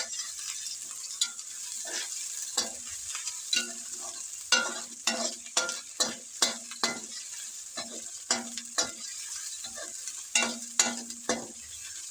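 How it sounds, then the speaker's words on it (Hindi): Ginger-garlic paste fried with browned onions for chana pulao, a gentle sizzle of oil under repeated rhythmic scrapes and taps of a spatula stirring in the pot, close and unaccompanied by voices. "तो अब हम इसमें अदरक और लहसुन का पेस्ट शामिल कर देंगे। इसको भी अच्छी तरह से भून दें।"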